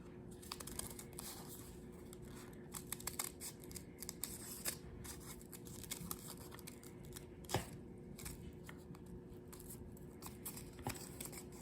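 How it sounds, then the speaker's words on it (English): Scissors cut through folded paper in quick, close snips with crisp crinkling as the paper shifts, repeated irregularly throughout. "I'm going to cut out 2 squares or triangles"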